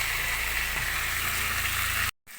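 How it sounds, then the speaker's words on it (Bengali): Potatoes and flat beans frying with spices in oil make a steady, close sizzle that runs unbroken until it cuts off abruptly near the end. "এখানে মশলাটার সাথে আমার ভালো করে আলু সিমগুলো ভাজা হয়ে গেছে আর সুন্দরভাবে তেলও ছেড়ে দিয়েছে।"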